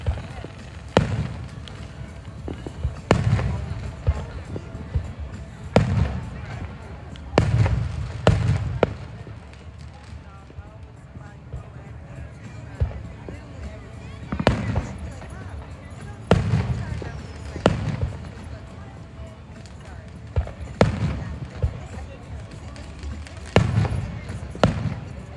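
Fourth of July fireworks bursting at a distance as repeated booms spaced a few seconds apart over roughly 25 seconds, with crowd murmur and people talking underneath.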